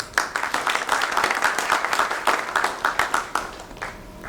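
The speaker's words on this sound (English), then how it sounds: "A big round of applause for her." Audience claps at a capital markets conference to welcome a speaker, a steady run of close, crisp handclaps lasting several seconds with no talk over it.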